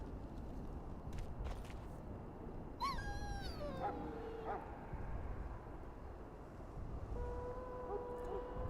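A dog in the video game Dragon Age Origins gives high, wavering whines, one burst near the start and another toward the end, over a steady background hum.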